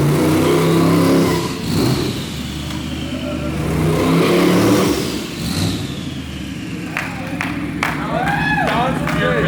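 A 1927 T-bucket rat rod with a twin-turbo LS engine revs in surging bursts under loud talk and crowd noise, with a few sharp whooshing turbo-like sweeps near the end.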